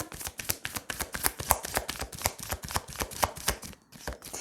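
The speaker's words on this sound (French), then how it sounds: "Allez, on va tirer 9 cartes." Tarot cards are shuffled by hand in a rapid, even riffling patter of crisp paper slaps, close and steady for several seconds with a brief pause near the end.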